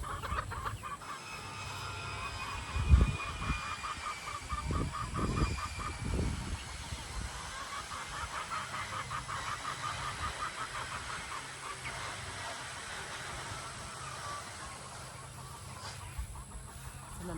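Backyard chicken flock, with new birds just introduced to older hens, clucking and squawking continuously, with a few louder calls early on over a low rumble of background noise.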